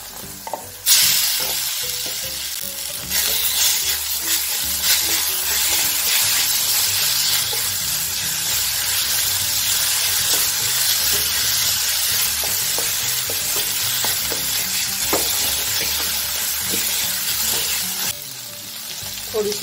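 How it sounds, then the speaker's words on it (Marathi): Mashed eggplant for spicy baigan bharta goes into a hot pan with salt. A loud, steady sizzle follows, with repeated scraping stirs running through it. "चवीनुसार मीठ यामध्ये, आणि लगेच मॅश केलेले वांगे टाकून घेऊया।"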